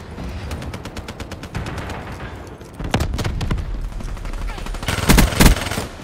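Hellstorm missile strike in a Call of Duty–style shooter video game: dense, rattling gunfire and repeated blasts building into loud clustered explosions near the end, with heavy rumbling throughout.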